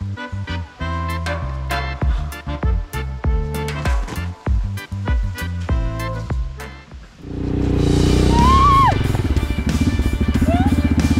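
A motorcycle engine starts up loud and close and keeps revving steadily on a rural road in Russia's Oryol region, with rising pitch sweeps, after a stretch of rhythmic music-like percussion.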